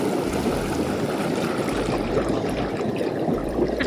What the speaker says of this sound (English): We discovered the extra jets in the pool.